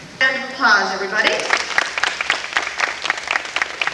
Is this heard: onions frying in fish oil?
no